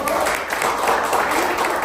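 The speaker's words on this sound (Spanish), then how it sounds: "un fuerte aplauso para todos nosotros" An audience at the opening of a training course gives a short burst of steady applause, many hands clapping together, with a voice faintly underneath.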